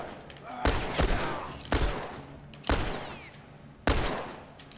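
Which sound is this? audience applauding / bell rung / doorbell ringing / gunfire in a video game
gunfire in a video game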